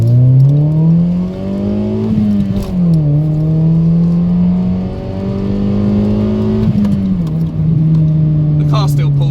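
Toyota Yaris engine accelerating, a loud steady drone whose pitch climbs, dips briefly at gear changes and climbs again, heard from inside the car throughout with no talk.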